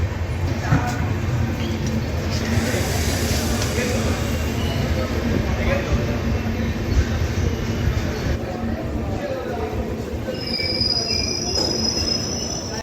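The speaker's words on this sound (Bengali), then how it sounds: "তো ট্রেন ছেড়ে দিয়েছে" Train departing and running on the Kolkata to Varanasi route: a steady loud rumble of wheels on rails, with a thin metallic squeal rising near the end, heard from inside the carriage under people talking.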